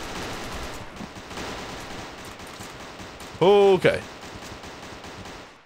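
A short burst of rapid gunfire cracks out in the game Code:29, loud against steady background game noise, followed by a second brief shot. Someone speaks briefly.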